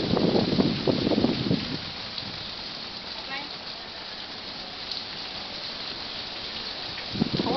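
Rain falls steadily outdoors as a soft, continuous hiss of drops on surfaces, with people talking briefly over it at the start and again at the end.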